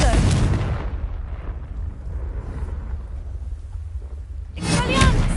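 The Confringo fire spell in Hogwarts Legacy bursts with a loud broadband blast at the start, then a low rumbling decay, followed by another crackling burst near the end, all under busy game sound.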